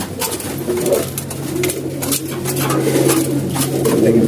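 Pigeons cooing while feeding on scattered grain, with soft repeated coos over a busy background of pecking and tapping at close range.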